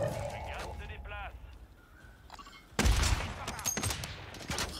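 Gunfire from the video game Warzone 3 erupts in a dense, loud burst partway through, with a few sharp follow-up shots, after a quieter stretch of game ambience and faint chirps; voices talk over it.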